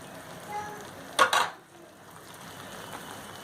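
Ghee is poured from the side into a hot Mysore pak mixture, bringing a short, sharp burst of sizzling and stirring that fades quickly into a quiet background.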